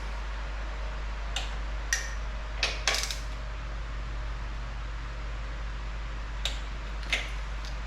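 A torque wrench clicks several times in short sharp bursts while bolts on the rear housing of a 1963 Corvair are tightened to 23 foot-pounds, the clicks close and spaced irregularly over a steady low hum.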